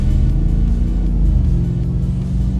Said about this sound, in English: Lots of power, that nice V8 rumble out the back.